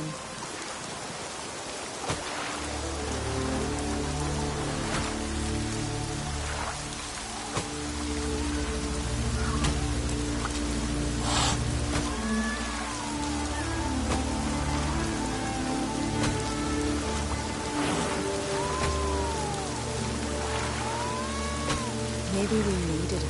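Steady rain falling on surfaces outdoors, a dense continuous patter of drops with occasional louder splashes, close and even throughout, with faint melodic tones drifting underneath.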